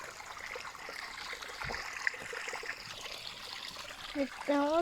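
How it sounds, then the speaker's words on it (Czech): Spring water trickles and flows steadily in a continuous low babble, fairly close, with brief tonal chirps near the end and faint background noise. "Tady také teče ta voda"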